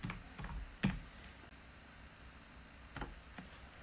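A prompt typed on a computer keyboard: a few scattered, quiet key clicks and taps, close but faint, with a near-silent pause in the middle.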